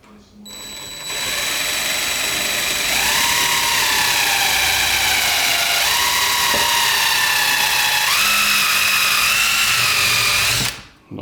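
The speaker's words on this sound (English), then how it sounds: "I'll drill straight in and straight back out." A power drill bores a hole in a cabinet door, its motor whining steadily and loudly for about ten seconds with pitch shifts as the bit bites, starting and stopping abruptly.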